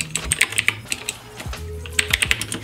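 Rapid, uneven keystrokes on a budget gaming keyboard with tactile switches, a close, crisp clatter of bursts and short pauses, with no voices.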